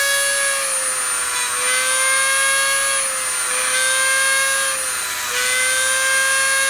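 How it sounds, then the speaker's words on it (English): A small Dremel rotary tool fitted with a tiny drill bit in a three-jaw chuck whines at a high, steady pitch as it drills holes in wood, the tone dipping slightly under load as each hole is bored. "And I'm just going to drill in and make all the holes."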